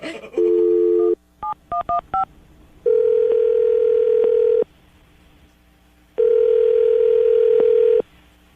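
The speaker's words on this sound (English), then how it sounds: "we're going to dial the phone number right now" A telephone line plays a steady dial tone, then a quick series of touch-tone beeps as a number is dialed, followed by two long ringback tones separated by silence. All the tones are loud and clear, with no talking.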